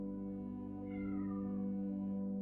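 A house cat lets out a single drawn-out meow, moderately close, over a steady low droning hum that runs throughout, with no talking.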